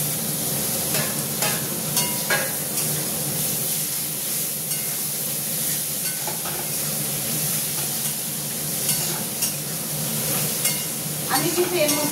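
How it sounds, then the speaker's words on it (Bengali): Ginger paste added to browned onions in a pan for khichuri, a steady hissing sizzle of frying that continues throughout at moderate loudness. "এবার আমি আদা বাটাটা দিয়ে দিচ্ছি"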